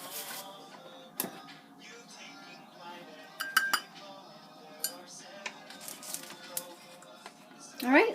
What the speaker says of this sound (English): Alright, so now I'm just going to mix this until it's a nice soft dough.